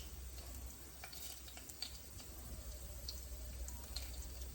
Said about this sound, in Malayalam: എണ്ണ ചൂടായി ഇതിലേക്ക് നമുക്ക് കുറച്ച് ഉലുവ ചേർക്കാം